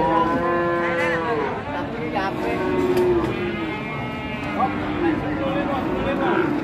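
Cattle at a livestock market in Jatirogo low repeatedly with drawn-out moos, several animals calling close by while someone talks over them.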